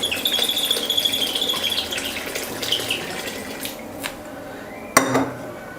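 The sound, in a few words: stirring sambar in a cooking pot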